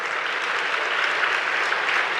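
A church congregation claps together through a Telugu sermon, producing a short, even wash of applause that stays close and loud with no speech on top.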